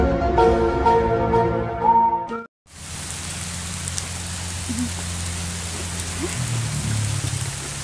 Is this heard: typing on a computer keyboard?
no